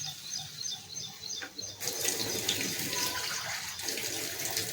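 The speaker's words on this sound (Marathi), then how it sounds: "त्याच्यात थोडंसं पाणी ॲड करूया." Water pours into date chutney in a pan with a close, steady rushing splash that begins about a third of the way through and continues to the end.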